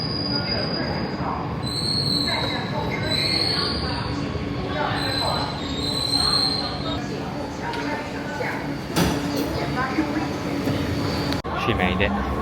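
A train rolls into a station in China with high metallic wheel squeals and a steady rumble, people chattering in the background throughout.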